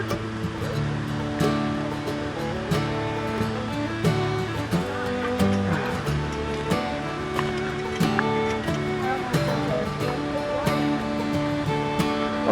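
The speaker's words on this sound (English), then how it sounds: "We'll take a drink from that waterfall." Little Egypt Waterfall on the Cumberland Trail pours in a steady rushing roar, heard continuously up close beneath faint background sounds.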